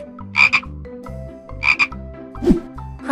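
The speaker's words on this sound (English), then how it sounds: "Frog." Cartoon frog croaking in an animated children's animal game, three short croaks in a steady rhythm over light background music.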